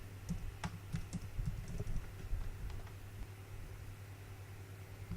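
Quick, uneven keystrokes clatter on a computer keyboard while an IP address is entered into a web browser for router setup, with clustered taps over a low steady hum and no talking.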